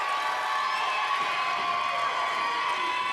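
Wrestling crowd at a live indie event roaring for Logan Legit, a loud sustained mass of cheering and shouting voices with no breaks, filling the arena.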